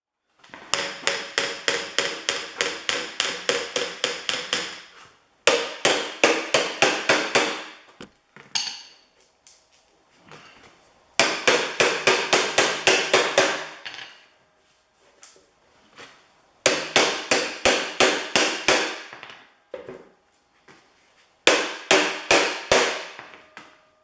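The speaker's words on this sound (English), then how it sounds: "let's get the dolly and hammer and see if we can flatten that out." Hammer and dolly flattening a piece of metal in a welding shop, heard as five bursts of rapid, ringing hammer blows, each a quick run of a dozen or so sharp metallic strikes separated by short pauses, close and loud.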